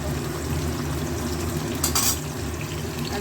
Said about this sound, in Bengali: পনিরগুলো তেলে দিয়ে দিয়েছি। খুব কড়া একটা ভাজবো না, একটু উল্টে পাল্টে ভেজে নেবো।